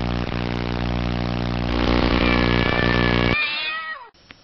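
A cat meows inside a running microwave whose steady hum drones underneath. A long, rising meow is heard near and loud before the machine cuts off abruptly.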